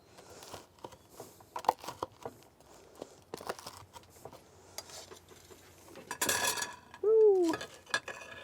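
A knife slicing through garlic bread on a board: a series of scattered crunchy cuts and taps, close and fairly quiet, ending with a louder scraping rustle and a short squeaky clatter.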